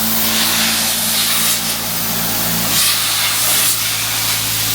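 Dry ice blasting on a 1976 Chevrolet Silverado C20, a loud, continuous high-pressure hiss with a steady compressor drone underneath and brief surges in intensity, close and unbroken throughout.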